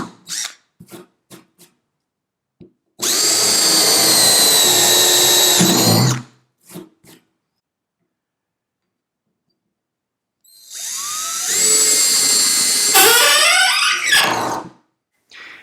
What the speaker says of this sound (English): if you need a powerful cordless drill